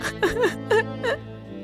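A girl whimpers and sobs in a few short, wavering cries, close by and fairly soft.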